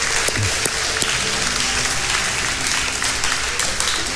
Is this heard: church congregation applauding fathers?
yes